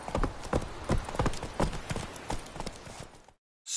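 Horse Roach's hooves clip-clop in a steady, close rhythm in a video game, with a brief snort or whinny mixed in before the sound cuts off near the end.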